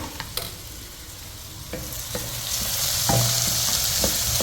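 Onions browning in a frying pan sizzle steadily while a utensil scrapes and stirs them, with clicking scrapes scattered throughout and the frying hiss growing louder toward the end; no talking.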